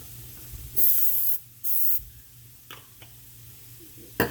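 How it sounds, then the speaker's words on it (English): Two short hissing bursts of olive oil cooking spray onto a waffle maker close to the mic, followed by a few light clicks and taps. "Put a little bit of olive oil spray."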